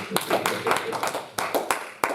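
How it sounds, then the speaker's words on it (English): A church congregation claps during a Sunday morning service, with uneven bursts of applause and sharp individual claps under a voice speaking. "Clap for yourself here in church this morning"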